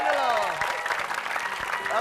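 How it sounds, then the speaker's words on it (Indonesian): A small group claps briefly during a live broadcast show, the light patter of applause running under a person talking. "Ya, tepuk tangan dulu."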